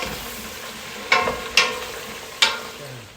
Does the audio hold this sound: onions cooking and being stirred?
yes